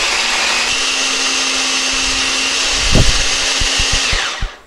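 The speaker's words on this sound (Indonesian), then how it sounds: "Nah ini aku menghaluskannya pakai chopper ya, biar nanti teksturnya itu lebih cantik." An electric food chopper whirs loudly and steadily as it grinds red and green chilies, a close continuous motor drone with a few bumps and knocks near the end before it spins down and stops.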